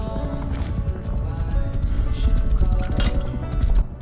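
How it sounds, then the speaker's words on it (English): Rapid hoofbeats of a horse in the video game Rust gallop in a steady, driving rhythm, loud and close, with a faint whinny; game-style sound effects and no talking. "That guy came in with a horse!"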